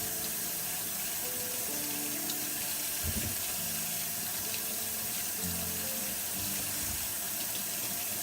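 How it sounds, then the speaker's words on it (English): Tap water runs steadily into a sink while mushrooms are rinsed and scrubbed in a strainer, a continuous close hiss with faint clunks of handling underneath. "hope you can hear me over the water"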